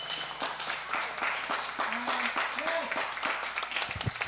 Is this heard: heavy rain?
no